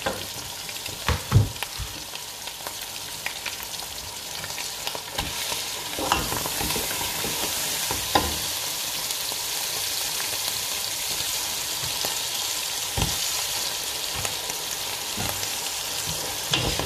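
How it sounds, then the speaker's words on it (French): A spoon scrapes and stirs frozen chicken frying in a pot, steady frying hiss underneath with intermittent knocks and clatters against the pot, close by, no voices. "Il faut la mélanger jusqu'à ce que vous voyez que le poulet il a commencé à cuire tranquillement."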